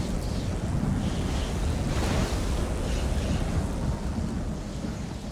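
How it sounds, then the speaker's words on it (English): A lightning and thunder attack from The Elder Scrolls Online sounds as a loud, sustained rumbling crackle that fills the whole stretch, with a brighter burst near the middle, and there is no talk. "Have some lightning! You want more lightning? I have plenty to go around!"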